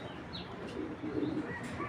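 Racing pigeons cooing softly in a loft, low murmuring coos with a few faint chirps over a steady background hum, no voices.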